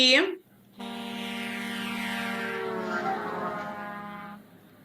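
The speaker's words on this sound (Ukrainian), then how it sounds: "вантажний автомобіль." A large truck's deep horn blares in one long steady blast, loud and close, after a brief voice at the start.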